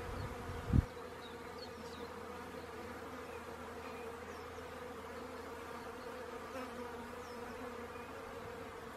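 A young wild honeybee colony living in a tree gives off a dense, continuous buzz of many bees, steady and moderately close, with a single brief knock near the start and no voices.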